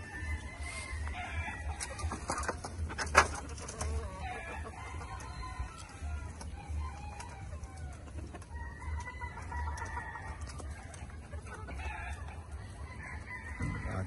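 Chickens cluck and squawk nearby, with a rooster crowing among them; scattered bird calls over a low background hum, no talking.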